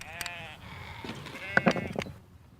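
Sheep in a flock bleat several times from nearby during spring shearing on an Ardèche farm. The calls overlap with quieter bleats and farmyard bustle.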